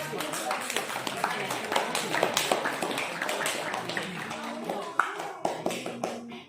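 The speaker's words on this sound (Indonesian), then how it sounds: "Tepuk tangan" Students in a classroom clap together, a dense run of close, sharp hand claps that thins into a few scattered claps toward the end.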